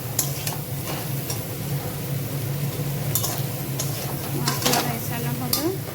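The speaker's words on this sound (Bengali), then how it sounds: "এবারে নেড়ে ছেড়ে এটাকে ভালো করে মশলাটা মিশিয়ে নিতে হবে।" Spices being stirred into food in a pan, a steady scraping stir over a constant sizzle with a few sharp clicks of the utensil against the pan, a voice talking faintly beneath.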